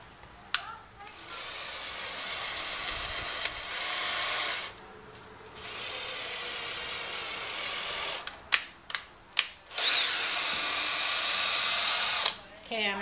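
A power drill works on an outdoor wooden footstool in several long, loud whirring bursts, separated by brief pauses and quick clicks and short trigger pulls between runs.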